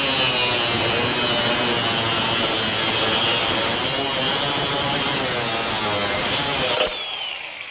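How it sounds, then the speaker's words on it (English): A Flex 24V FX3171A brushless grinder slices through 1-inch square steel tubing, giving a loud, continuous, harsh whine with rough grinding texture that stops abruptly near the end, leaving a brief quieter tail. "being able to quickly cut through that 1-inch tube"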